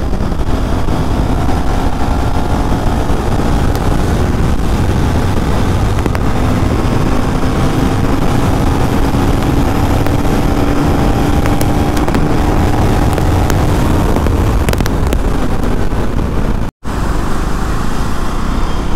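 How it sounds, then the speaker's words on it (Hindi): A KTM Duke 390 motorcycle cruising on a highway gives a loud, steady engine drone and rushing wind noise, continuous with slight pitch shifts and one abrupt brief dropout near the end. "लगभग 500 किलोमीटर चलाने के बाद और बाइक अभी पूरा भाग रही है।"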